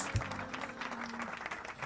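Steady applause fills a live online stream, a continuous even patter of many claps at moderate level with a low hum underneath and no clear voices.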